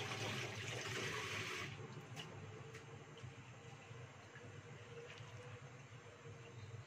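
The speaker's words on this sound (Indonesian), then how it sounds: "Sekarang cuci tangan dulu ya." Hands being washed under running tap water: a steady, hissing rush of water for the first couple of seconds, then a quieter, low background with faint splashes and drips.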